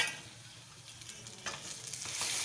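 Chopped onion with tomato, garlic and ginger paste sautéing in oil in a pan for a Bengali-style tilapia curry, a steady broadband sizzle that swells louder toward the end, with no talking.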